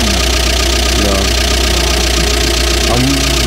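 A car engine idling after long standing, turning over steadily with a loud, even mid-pitched rumble and slight knocking, while people talk over it.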